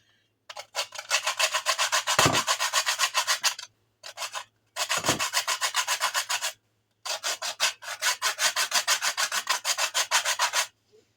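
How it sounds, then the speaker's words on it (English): Fresh whole nutmeg is rubbed against a handheld grater in fast, even rasping strokes, grouped into three long bursts with short pauses between, close and fairly loud, with no talking. "Okay, I have about a teaspoon of fresh grated nutmeg"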